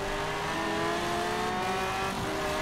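A Lamborghini Aventador races in Forza Horizon 4, its engine a steady, loud, sustained high-revving drone held throughout, with a faint tire squeal near the end.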